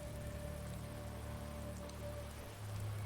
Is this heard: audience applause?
no